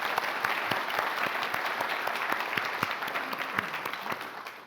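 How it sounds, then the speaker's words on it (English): A conference audience applauds the organizers with steady, dense clapping from many hands that holds at an even level throughout, with no talk over it. "Let's give another round of applause for the organizers."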